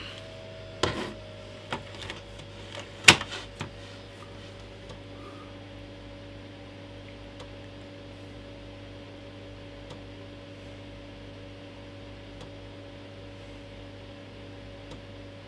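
A Commodore Amiga external floppy drive takes an inserted disc, with a few sharp mechanical clicks and clunks early on followed by a low, steady motor hum and faint ticking.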